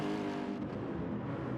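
A race car engine in a simulated feature race drones at high revs and dips slightly as it passes, a loud steady mechanical whine with no talk over it.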